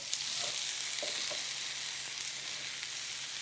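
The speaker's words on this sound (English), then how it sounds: "Here I'm going to cook the nopalitos and the potato." Nopalitos and potato fry in oil in a pan with a steady, even sizzle and a few faint pops, heard alone throughout.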